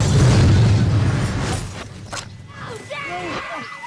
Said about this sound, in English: A deafening explosion triggers Art's memories.